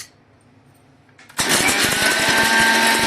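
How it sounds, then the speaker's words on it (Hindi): A small mixer grinder jar grinding cinnamon sticks and black pepper: quiet at first, then the motor switches on abruptly into a loud, continuous rattling whir that holds steady to the end. "बस अभी हम इसे मिक्सी में चर्न करेंगे।"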